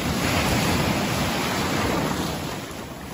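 Sea waves break and wash continuously along a beach on the Phang Nga coast, a steady broadband roar of surf, close and loud, easing slightly toward the end, with no voices.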